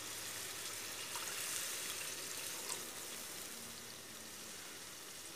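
Water poured into a pot of beef pasanda, a steady broadband splashing rush that holds evenly for several seconds, moderately loud and close, with no voices.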